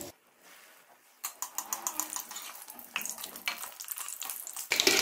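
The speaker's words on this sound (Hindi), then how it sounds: "अब हम एक एक करके जो अपने बॉल्स हैं वो इसके अंदर डालेंगे और इसको गोल्डन ब्राउन होने तक फ्राई करेंगे।" Bread balls fried one at a time in hot oil, a steady crackling sizzle that starts after a quiet moment and continues close by with small bursts and pops, no voices over it.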